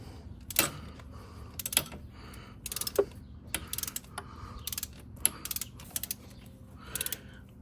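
Torque wrench ratcheting and clicking while tightening spark plugs on a 2005 Ford Mustang, a series of sharp close metallic clicks in irregular bursts over a quiet background.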